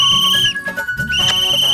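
A whistle lodged in a man's throat gives off shrill, steady whistle tones, close and loud, that break off briefly midway and then resume, with no talking.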